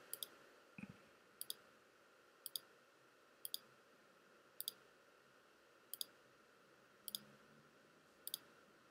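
A computer mouse clicks in crisp double-click pairs at a steady, spaced rhythm in Hyperion Financial Management accounting software, close and clear over a quiet room hiss.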